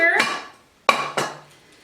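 Metal cooking pots clank and ring as they are handled, three sharp knocks with short metallic ringing decays, close and fairly loud.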